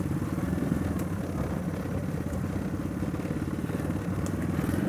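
A small mini Jeep rumbles steadily along a dirt trail, its engine a constant close, buzzing drone with faint clatter and no talking.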